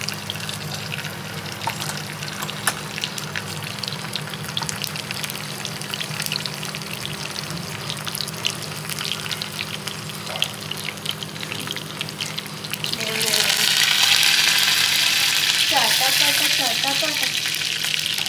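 Mustard seeds splutter in hot oil: a soft, continuous sizzle gives way to a louder burst of rapid popping and crackling near the end, close to the listener.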